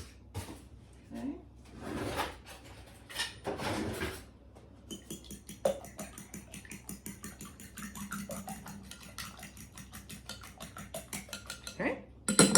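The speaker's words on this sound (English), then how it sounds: "In this bowl, you are going to beat 2 eggs" A whisk or fork clatters against a bowl while two eggs are beaten slightly, a run of quick, close ticking strokes following some brief handling noises and a few spoken words.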